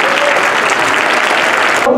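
A crowd applauds warmly at a 50th anniversary school ceremony, the dense clapping loud and sustained before cutting off abruptly near the end, where a voice begins.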